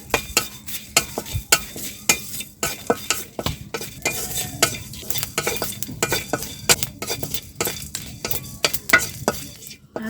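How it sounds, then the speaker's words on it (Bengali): Whole spices, panch phoron, a cardamom pod, bay leaf, two dried red chillies, cinnamon and a clove, fry in a kadai, with a soft sizzle beneath frequent sharp clinks and scrapes of a spoon stirring against the pan. "এর ভিতরে অল্প পরিমাণে 5 ফোড়ন দিয়ে দিব, একটা এলাচ দিয়ে দিব, অল্প একটু তেজপাতা দিয়ে দিব, 2টা শুকনো মরিচ দিয়ে দিব, একটু দারচিনি, একটা লবঙ্গ দিয়ে দিব। ভালো করে ভেজে নিব।"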